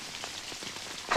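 Artificial rain from a comedy film scene falls as a dense hiss of drops pattering on surfaces, steady and moderately loud, with a sharper splash at the very end.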